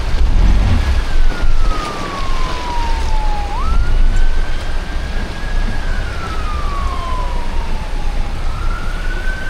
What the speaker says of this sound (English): Double ambulance.